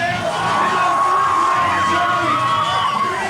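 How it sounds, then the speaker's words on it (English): At an inline skating vert event in Virginia Beach, a crowd cheers and whoops loudly and steadily, with shouts and yells rising over the noise of the audience. "The Virginia Beach crowd getting right behind Matt Salerno,"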